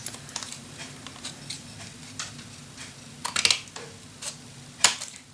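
Scissors or a trimmer cutting paper for a handmade mini album, with soft scattered snips and light clicks close by over a faint steady hum, including two sharper snips near the end.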